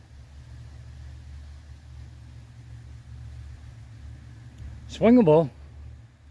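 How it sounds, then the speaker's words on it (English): Steady low traffic rumble from cars passing on a nearby road beside a river, continuous and moderately distant, with a voice speaking briefly near the end. "And you can hear the cars."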